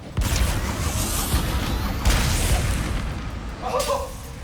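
Explosions and blasts from the Ratchet & Clank: Rift Apart video game, a loud boom near the start and another around the middle, with rumbling debris over a dense low roar throughout.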